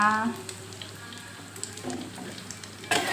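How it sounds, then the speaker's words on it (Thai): Four beaten eggs frying in hot oil as a Thai omelette, a soft steady sizzle and crackle after a brief voice at the start, ending with a louder clatter and splash of oil. "วันนี้ทำไข่เจียวสี่ฟองเลยนะคะ"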